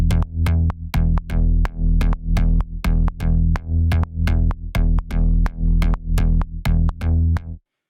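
A synthesized rhythmic groove with loud, punchy bass-heavy notes repeating in a steady syncopated pattern of about sixteen hits. It plays alone and ends abruptly.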